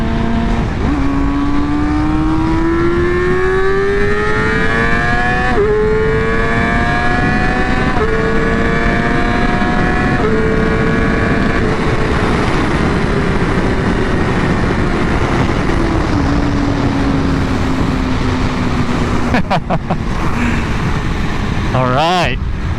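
A Yamaha R6 sport bike, just fitted with a new chain and sprockets, revs hard through several upshifts, its engine note climbing and dropping in a loud, continuous run, then fading as it pulls away.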